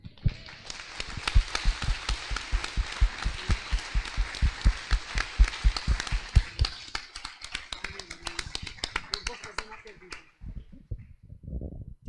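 A church congregation claps together in a steady, fast rhythm of sharp individual claps for about ten seconds, then the clapping fades and a few scattered claps and voices remain.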